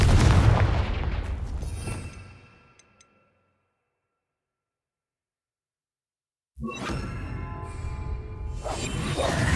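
A Confringo spell from Hogwarts Legacy detonates in a loud, booming burst that decays into quiet, followed by a sudden second blast of crackling, roaring energy.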